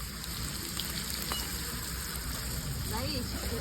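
Soybean chunks frying in oil, a dense continuous sizzle with faint clinks and stirring noises underneath, steady and fairly close for a few seconds.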